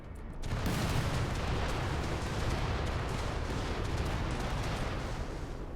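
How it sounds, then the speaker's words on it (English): A fireball spell explodes in the RimWorld video game, bursting suddenly into a sustained, loud, roaring rumble that holds steady for several seconds without fading. "let's fireball one of these guys"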